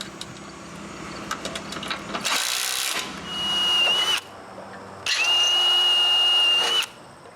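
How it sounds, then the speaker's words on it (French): Power drill boring bolt holes through the wooden boards of a trailer under repair, with two long loud drilling runs carrying a steady high whine, following lighter clicks and handling noises. "je perce des trous pour les boulons"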